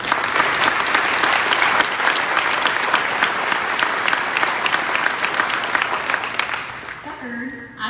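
An audience applauds at a ribbon cutting ceremony with the Governor, steady full clapping from a sizable crowd that fades out before a voice resumes speaking.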